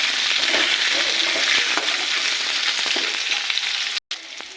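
Eggplant frying in a pan for a spinach and mixed-vegetable dish, a steady close crackling sizzle with occasional stirring scrapes, cut off by a brief silent gap near the end before it resumes.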